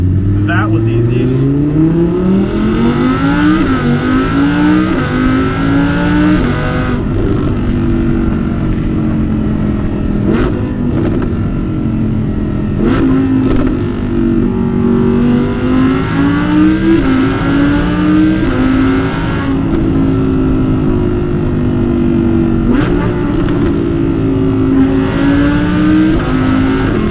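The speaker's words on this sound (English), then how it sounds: "going from first or second gear in the just base model V10 R8, it is an exciting experience with 532 horsepower" Audi R8 base-model V10 of 532 horsepower accelerating hard through the low gears, a loud close engine note rising and falling with the gear changes over the full length of the drive, with brief cabin sounds layered on top.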